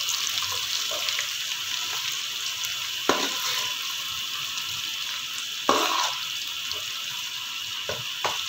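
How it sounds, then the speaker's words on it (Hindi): Ginger and garlic frying in hot oil for keema matar give a steady bright sizzle, broken by a few sharp clatters of a spoon stirring the pan, close by and with no talk. "अदरक लहसुन को भी 2 मिनट भून लेंगे ताकि इसका भी कच्चापन ख़त्म हो जाए और ऑयल में ये फ्राई"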